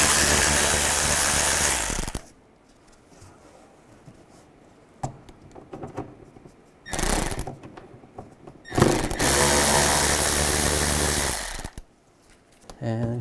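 A ratchet with a T20 socket works screws out of the inner fender well of a 2005-10 Volkswagen Jetta, loud bursts of rapid clicking in several separate runs with quiet pauses between.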